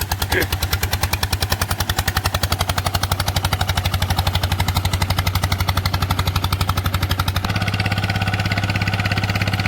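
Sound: loud engine running

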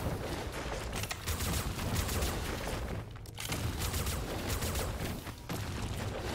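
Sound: gunfire while dodging and shooting, video game Dolmen

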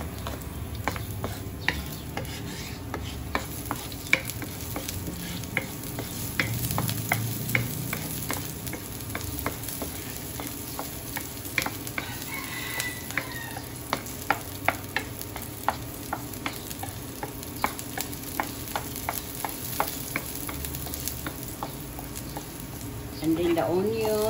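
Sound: garlic sautéing in a pan

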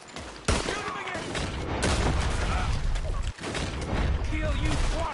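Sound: gunfire in Red Dead Redemption II (video game)

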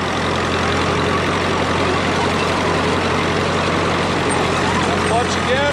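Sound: Caterpillar D2 crawler dozer engine running while driving

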